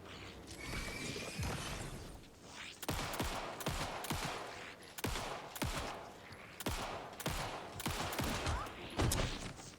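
Gunfire in the video game Alan Wake 2: a rapid string of sharp shots, some in quick bursts and others spaced apart, cracking loudly over a tense ambient rumble with mechanical clicks between.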